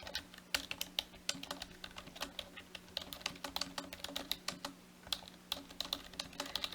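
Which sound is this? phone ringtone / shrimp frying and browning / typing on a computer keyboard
typing on a computer keyboard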